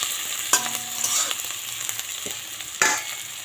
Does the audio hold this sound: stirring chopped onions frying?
yes